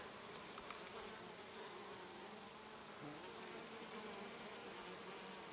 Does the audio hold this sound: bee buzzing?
yes